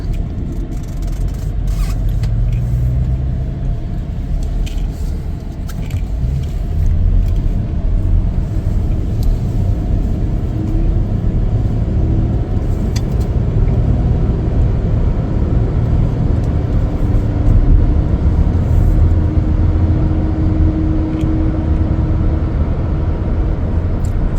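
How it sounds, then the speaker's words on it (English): A 2021 Ford F-150 XL regular cab pickup on a road test drive, its steady low engine and road rumble running continuously and evenly throughout, with no talking. "Take it for a little test drive here."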